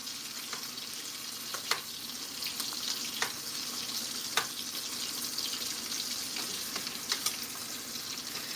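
Steak searing in a hot pan with rosemary, giving a steady close sizzle with scattered sharp pops and spits throughout.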